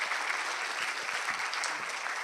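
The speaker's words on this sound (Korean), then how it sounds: "제가 옆구리 찔러야 이제 박수를 치시는군요" A lecture hall audience at a university engineering college anniversary talk claps steadily, a dense, even wash of applause from many hands lasting the whole moment without a break.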